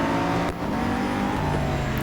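Audi GT4 race cars roar past at Brands Hatch in Real Racing 3, a steady, loud wash of engine drone and tire noise with no gaps.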